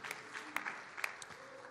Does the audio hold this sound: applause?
yes